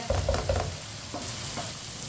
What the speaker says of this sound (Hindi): मसालों को भी 1 मिनट के लिए मैंने पका लिया।